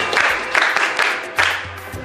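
Gathered congregation clapping for a person, bursts of applause rising and falling in short waves, fairly close, with a faint low hum underneath.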